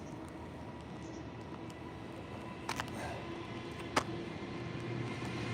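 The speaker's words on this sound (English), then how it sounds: "Freight train." A low, steady rumble of a passing freight train with rolling wheel noise and a few sharp metallic clanks.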